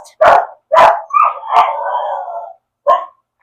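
A dog indoors barks twice in quick succession, then lets out a drawn-out whining howl, followed by one more short bark, all loud and close with no talking.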